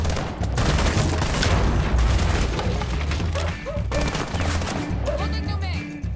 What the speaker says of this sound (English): break that wall with your gun. Just shoot the wall